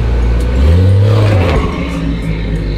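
A widebody BMW F30 sedan revs loudly nearby, rising to a strong burst of engine roar and then settling back to a lower rumble.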